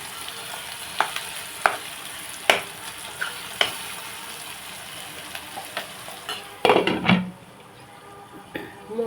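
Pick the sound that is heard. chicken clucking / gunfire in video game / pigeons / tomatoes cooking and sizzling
tomatoes cooking and sizzling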